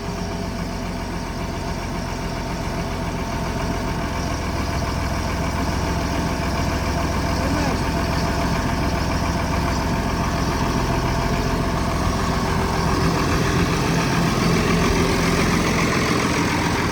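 An MTZ tractor engine idles steadily and loudly up close, a continuous dense diesel rumble with slight knocking that holds unchanged for the whole stretch.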